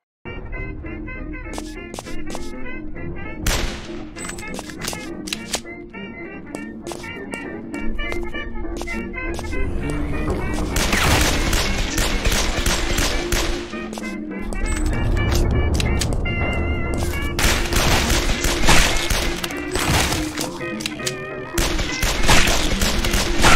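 Rapid, loud gunfire in the zombie-attack platform game Guns, Gore & Cannoli, with sustained bursts of shots over game music and effects, growing dense and continuous through the middle and end.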